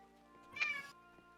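A single short, close cat meow, fairly faint over a quiet humming background, heard alone.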